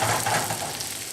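Onions and garlic sizzle in a pan of oil with a steady, dense crackling hiss close by and no talking.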